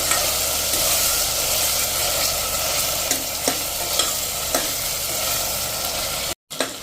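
Potatoes and peas frying in oil over a slow to medium flame, a steady close sizzle with a few soft stirring scrapes, ending in a brief cut to silence.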